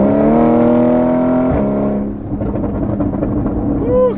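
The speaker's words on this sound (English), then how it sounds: "now we're in sport mode. You can hear some more burbles." Porsche in sport mode, its engine holding a loud steady drone that drops off as the throttle lifts, followed by crackling exhaust burbles up close.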